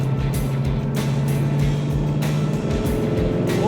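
Steady engine drone with a low rumbling hum and road noise, a 1936 Chevrolet two-door Town Sedan street rod cruising along a highway at constant speed with no talking.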